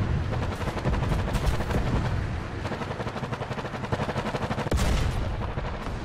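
Sd.Kfz. 234/4 armored car gun firing in War Thunder: dense, loud, continuous battle noise with rapid repeated gunfire and heavy blasts close by, a sharp louder shot standing out near the end.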